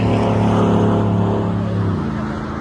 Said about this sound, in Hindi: क्या गाड़ी जा रही है, ऐसे लैम्बोर्गिनी फरारी सब